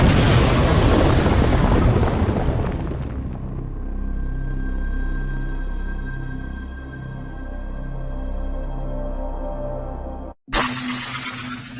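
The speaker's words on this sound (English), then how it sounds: "There was supposed to be an earth-shattering kaboom." A loud, earth-shattering explosion bursts out at the start as a dense roar, then fades within about three seconds into steady background music, with a brief sharp crash near the end.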